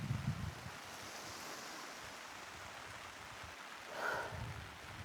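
Wind buffets a beach campsite by the sea at Molo Polo after a stormy night, a steady broadband rush of surf and gusting air with low microphone rumble at the start and a brief swell near the end.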